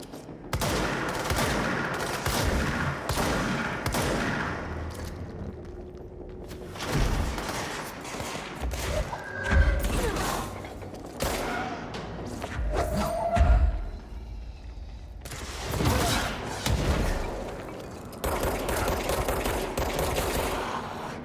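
Video game gunfire, rapid bursts of shots and heavy thuds in a dense, loud barrage that rolls on almost without pause, with a voice briefly heard over the shooting.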